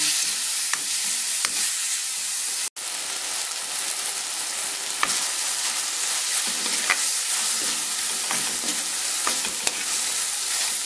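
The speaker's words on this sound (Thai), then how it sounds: "ผัดน้ำพริก หมูสับนี้ ให้สุก" Minced pork and chili paste stir-fried in a hot pan for a Thai tamarind-leaf dish, giving a continuous loud sizzle with scraping spatula strokes and one sharp clank, with no talking.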